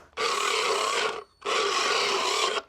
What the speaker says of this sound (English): that's the rasping done